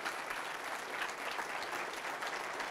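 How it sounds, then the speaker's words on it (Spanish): Worshippers at a Mass for the Solemnity of Our Lady of Guadalupe break into loud, steady applause for the King of Kings, a brief unbroken burst of dense clapping. "Fuertes aplausos al Rey de Reyes y Señor de Señores."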